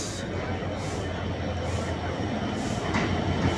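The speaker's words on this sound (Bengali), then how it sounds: "এই তো ট্রেন ঢুকে পড়েছে, চিত্রা এক্সপ্রেস" The Chitra Express train rumbles steadily and loudly close by as it arrives at Bheramara station, its wagons rolling past with a continuous heavy roar and faint rhythmic clatter.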